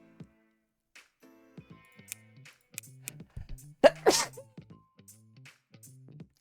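One forceful sneeze bursts out over quiet, intermittent electronic game sounds and music, standing clearly above the soft background.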